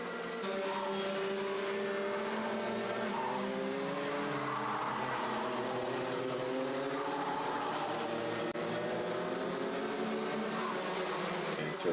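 Race cars power out of the final corners of a circuit, engines revving steadily up through the gears with overlapping whines and rising pitch, loud and continuous for the whole stretch with no talk.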